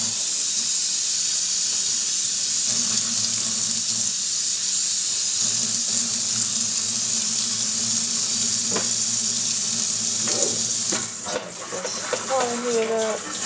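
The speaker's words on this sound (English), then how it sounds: "trying to get the sink cleaned out a little bit before I make my mop water in it" Water runs into a kitchen sink that is being cleaned out, a steady broad hiss of flowing water nearby, joined toward the end by clatter and brief handling noises.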